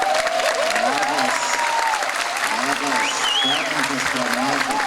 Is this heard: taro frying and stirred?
no